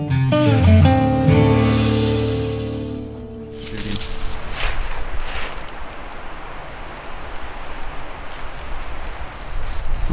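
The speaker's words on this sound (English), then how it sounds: "It's pretty windy." Strong outdoor wind roars steadily across the microphone during a trapping outing on a cold winter day, a broad rushing noise that swells and holds for several seconds after an opening stretch of low tonal sound.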